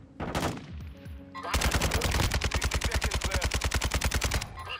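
An RPK light machine gun fires in Modern Warfare 2, first in a short burst, then in a long rapid sustained stream of loud, close, evenly spaced shots.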